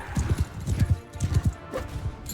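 Horse hooves clip-clopping in Mount & Blade 2: Bannerlord, a steady rapid gallop with close, even thuds over faint battle ambience.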